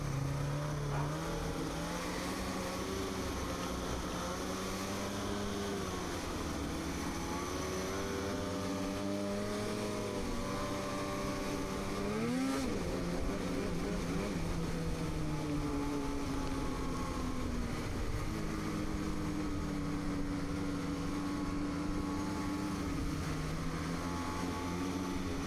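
Snowmobiles climbing a mountain trail in British Columbia on a guided tour, a steady loud engine drone with shifting pitch that swells and dips throughout, with no talk.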